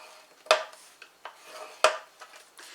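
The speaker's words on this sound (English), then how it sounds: "we're going to score this piece along the long side with our small ball" Small ball stylus drawn along a scoreboard groove scoring a paper card: two distinct scratchy strokes with softer rubbing between, close and fairly quiet, no talking.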